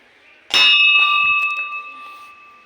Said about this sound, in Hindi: यह घंटी